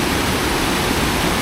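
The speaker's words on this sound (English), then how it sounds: "So here's the mighty Weminuche Creek" Weminuche Creek, a mountain stream in Colorado beside a trail bridge, rushes in a loud, steady broadband roar that fills the whole moment without a break.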